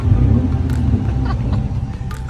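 Single-turbo Infiniti G37 sedan engine, roughly 500 hp, rumbling steadily and loud with a deep low drone throughout, heard from inside the car.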